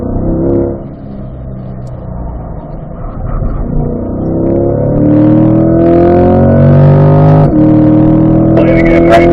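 A race car out on track comes off a corner, its engine note climbing steadily in pitch through the gears, loud and close throughout, with a sharp shift-like break near the end.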